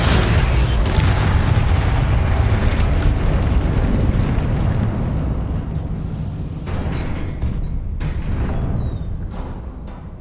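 A fire spell cast in Hogwarts Legacy, a loud roaring burst of flame that rumbles continuously for several seconds before settling into a steadier crackling blaze, with no talk.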